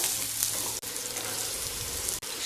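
Diced potatoes fry gently in oil over medium-low heat, giving a continuous soft, even sizzle with a couple of brief stirring breaks, quiet and close, with no voices.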